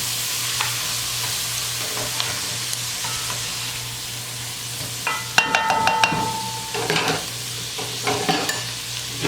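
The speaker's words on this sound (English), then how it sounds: "and I have 1 cup of cilantro, which has been washed already. I'm going to give it a stir." Rice with a cup of freshly washed cilantro is stirred in a pot, a steady low hiss of cooking joined midway by clustered scraping and clinking strokes of a spoon against the metal, close and fairly loud.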